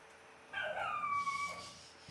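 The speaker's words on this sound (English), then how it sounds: "boy, my dog is loud" A dog lets out a single drawn-out whining yelp that rises and sags in pitch, fairly close, breaking a quiet background and trailing off after about a second.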